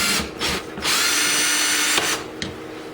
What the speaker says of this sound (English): So I drill this out.